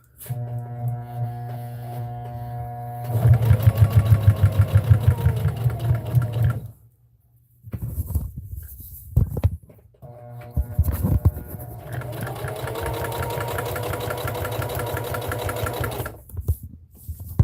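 A home sewing machine stitches fabric scraps together for a potholder, running in two steady mid-pitched whirring bursts separated by a pause with small handling noises; close and alone, no talking.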